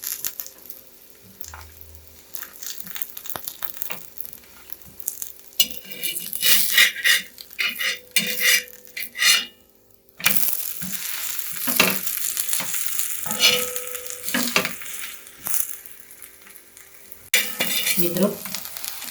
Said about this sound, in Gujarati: આપણે સિંગ તેલ લગાવી અને પરાઠાને શેકીશું.